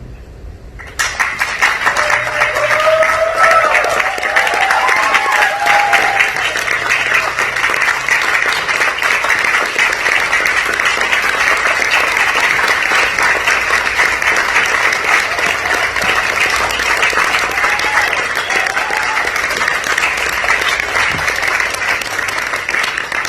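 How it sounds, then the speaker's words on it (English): A large audience at a coaching event applauds loudly and steadily for over twenty seconds, a dense wash of clapping with a faint voice briefly audible early on. "Let's give a round of applause"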